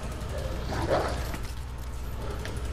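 Zombie dog from the video game Resident Evil 2 snarling and barking, a muffled burst near the middle over a steady low rumble of game ambience, with a faint voice underneath.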